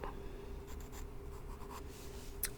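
Soft pen strokes scratch across paper while a medical questionnaire is filled out, quiet and close, with a few brief scribbles and no speech.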